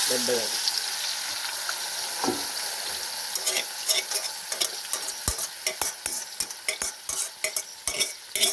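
Peanuts frying and being stirred in a pan with salt and other seasoning, a steady close sizzle broken by a run of sharp scraping and clinking stirs in the second half, with no talk.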